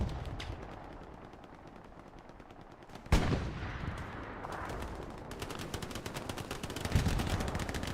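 Machine gun fire in Hell Let Loose from an MG covering a battlefield line, rapid rattling bursts near and far, with a sharp loud volley near the midpoint and more bursts toward the end.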